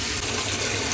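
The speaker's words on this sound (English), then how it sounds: "now in rinse cycle" Water rushes steadily into a washing machine filling during its rinse cycle, a continuous broadband hiss with no break, close and fairly loud.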